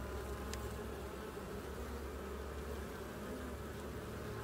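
Honeybees buzz during a summer beehive inspection, forming a dense, steady swarm drone that holds evenly throughout, close by and without any talking.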